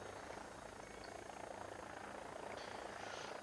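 Steady whine and rotor-like roar of an AW109SP helicopter's engines running during startup in the X-Plane flight simulator, loud and continuous with a brief rise in pitch near the end.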